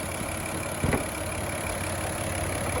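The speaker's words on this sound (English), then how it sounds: "This engine's in really good shape." A 2005 Mazda 6 Sport V6 engine running steadily at idle, an even mid-low hum close by with one brief knock or bump partway through, no speech.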